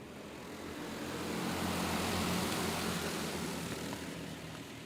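Stock Predator-motor go karts race on a track in a steady, dense engine drone that swells slightly as the pack passes, with no voices.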